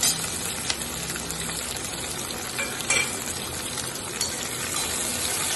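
Capsicum and potato pieces frying in a pan for a capsicum potato palya, a steady close sizzle with occasional scraping and stirring clicks from a utensil, with no voices.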